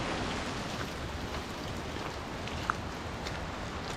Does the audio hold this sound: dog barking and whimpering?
no